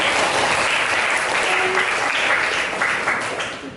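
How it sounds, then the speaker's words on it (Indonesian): Students at an Islamic junior high school applaud together in a classroom, a dense, steady burst of clapping that stays loud throughout and tapers slightly at the end. "Tepuk tangan untuk kita semua."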